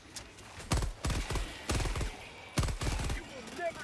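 Video game gunfire in Helldivers 2, with several loud rapid bursts of automatic weapon fire separated by short pauses and faint game effects in between.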